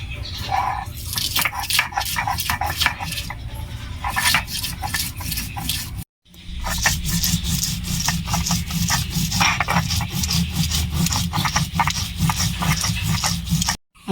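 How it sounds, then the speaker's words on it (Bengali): White mustard seed and green chillies are ground into a spice paste for mustard hilsa, a rough, repeated scraping rasp in quick rhythmic strokes, close and fairly loud, broken by one short pause and with no talk. "এবার আমি মশলাটা বেটে নেব"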